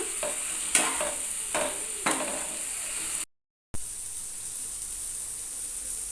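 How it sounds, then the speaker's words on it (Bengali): Masala for egg bhurji fries in a pan over a low flame with a constant close sizzle, stirred by a few spatula scrapes early on. The sound drops out briefly partway through, and no one talks. "গ্যাসের ফ্লেমটা কিন্তু লো করে রেখে আমি মশলাটা কষাচ্ছি"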